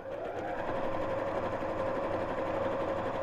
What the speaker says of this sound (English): And sew all the way down.